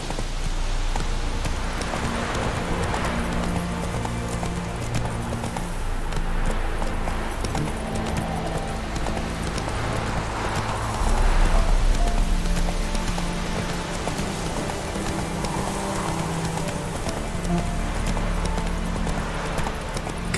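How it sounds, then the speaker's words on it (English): Horse hooves clip-clopping at a steady gallop through rain in The Witcher 3: Wild Hunt, a continuous rhythmic pounding over a constant patter of rainfall, loud and close throughout. "Faster. Whoa there, Roach"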